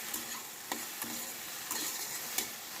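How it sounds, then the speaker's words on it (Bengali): Okra (bhindi) fries in oil seasoned with salt and turmeric, giving a soft, continuous sizzle broken by occasional sharp clicks and scrapes as it is stirred in the pan, with no talking. "তো ভেন্ডিটা ভাজছি আরও।"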